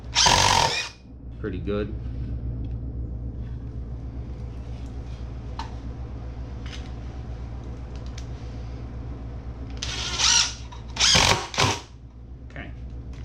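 A power drill whirs as it drives countersinking screws into wood for live edge speaker stands, with sharp bursts at the start and near the end, a quieter hum between, and a voice speaking briefly.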